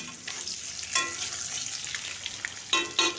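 Boiled eggs frying in oil for an egg and potato curry, a close, steady sizzle with sharper crackling bursts as the eggs are moved around.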